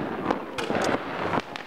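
New Year fireworks in Romania crackle and pop in rapid, overlapping bursts against a dense, noisy outdoor background, with faint voices mixed in.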